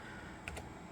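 Keystrokes on a Packard Bell Pentium 60 keyboard, a couple of quick clicks close together, faint against steady computer fan hum.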